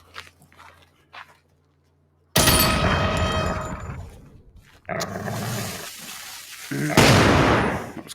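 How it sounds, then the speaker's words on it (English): Gunfire in a VR shooter game played on a PSVR2 headset, a sudden loud shot followed by sustained heavy noise and a second intense burst near the end, with a voice heard quietly at the start. "One shot straight to the head."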